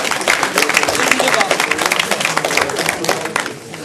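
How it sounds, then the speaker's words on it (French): A hall audience applauds veterans at a French awards ceremony, dense sustained clapping loud and close for several seconds, fading slightly at the end. "C'est pour ça que je vous demande de t'applaudir pour tous les anciens qui sont dans cette salle"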